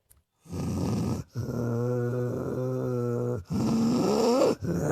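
A comic mimicry artist's voice imitates one dog growling at another, producing sustained throaty rumbles in three bursts, the last rising into a whining snarl, with no real dog present.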